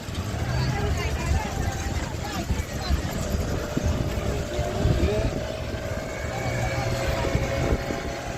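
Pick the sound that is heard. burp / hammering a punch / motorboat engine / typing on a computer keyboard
motorboat engine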